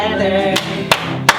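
A few sharp hand claps during a children's sing-along, two or three distinct slaps over ongoing singing and music.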